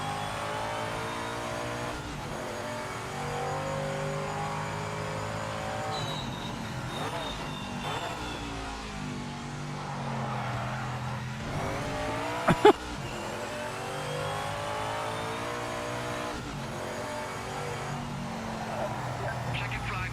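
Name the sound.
race car engine and tires from video game Project Motor Racing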